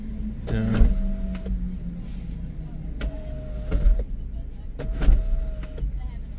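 A car moonroof motor hums in three short bursts, each started and stopped through an XTOOL D8BT scan tool, with soft clicks between runs and a quiet cabin around it.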